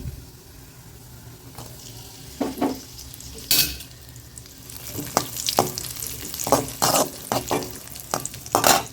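Raisins and cashews frying in hot ghee for carrot halwa, with a steady low sizzle and repeated sharp scraping stirs and clinks of a spoon against the pan, growing busier toward the end; no talk.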